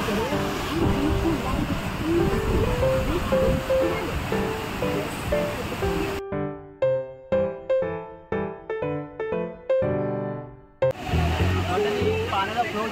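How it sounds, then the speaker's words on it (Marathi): Strong, fast water flowing at Wandri lake after heavy rain, a loud continuous rushing roar with voices over it, broken in the middle by a stretch of pulsing music before the roar returns. "पाण्याचा फ्लो जास्त आहे"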